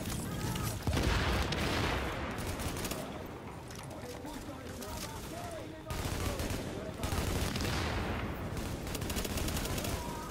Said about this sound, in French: vas-y, j'envoie la grenade.